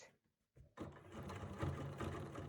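A sewing machine runs steadily as it stitches over couched fibers, a close, continuous mechanical whirr that starts abruptly after a few faint taps.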